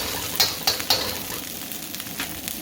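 Oil sizzling and frying in a pan while drunken noodles are cooked, a steady hiss with a few sharper crackling bursts near the start, close and fairly loud.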